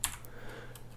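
Quick keystrokes on a computer keyboard's arrow key, a few sharp close clicks in about a second over a faint steady hum.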